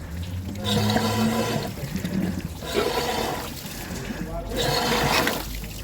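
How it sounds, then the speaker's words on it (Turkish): Old rusty antifreeze pours and splashes steadily from a Renault Megane 1 in surging waves, a continuous gushing drain with rhythmic swells lasting several seconds. "paslı eski antifrizi döktük."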